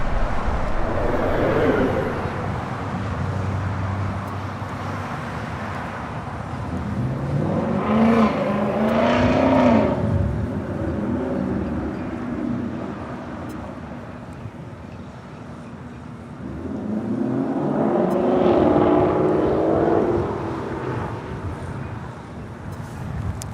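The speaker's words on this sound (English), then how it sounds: "EVA Air Flight 12 coming in from Taipei at a 777-300ER will be arriving at 24 right." An EVA Air Boeing 777-300ER arriving at LAX runway 24 right from Taipei, with two swelling, whining passes of jet noise separated by a quieter lull, mixed with wind buffeting.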